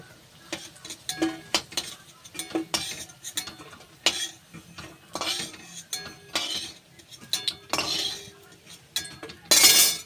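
Utensils clink and scrape against a pan as fried lentil fritters are lifted out, irregular metallic taps and clatters close by over a soft sizzle of oil, ending with a louder rattle.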